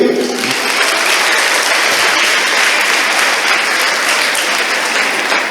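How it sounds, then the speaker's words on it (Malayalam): A crowd at a school alumni day event breaks into loud, sustained applause, dense clapping filling the hall throughout without pause. "ശരിയാണെങ്കിൽ ഒരു വലിയൊരു കയ്യടി."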